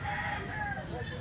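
A rooster crows once, a drawn-out call held for over a second, close but partly masked by loud low rumbling background noise and nearby chatter.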